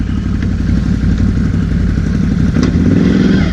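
A powder-coated Can-Am Renegade 1000 ATV on Interco Interforce 2 tires runs loud and close, its engine thumping in a steady rapid pulse, then revs briefly near the end.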